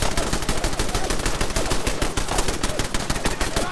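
Heavy machine guns in Fallout 4 VR hammer out a loud, unbroken stream of rapid shots for the whole stretch, close and dense with no pauses.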